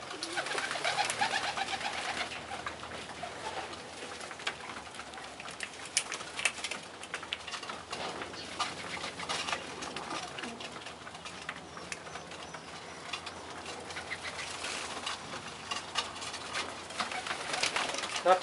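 Tippler pigeons coo softly and continuously inside a trap, the calls steady and close beneath a constant hiss of background noise.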